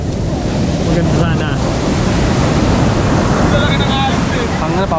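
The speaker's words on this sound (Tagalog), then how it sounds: "Ang laki ng alon eh." Big ocean waves crash and roar loudly on a beach at San Felipe, Zambales, in stormy conditions, with heavy wind buffeting the microphone throughout and a voice briefly audible.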